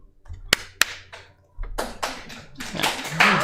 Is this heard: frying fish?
no